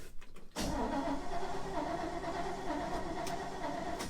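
A 1957 Chevy 3100 pickup truck engine cranks briefly and catches, then settles straight into a loud, steady idle close by with no voices over it.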